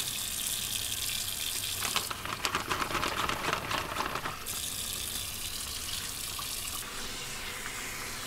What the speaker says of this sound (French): Cet échantillon va être rincé pour passer à travers différents tamis.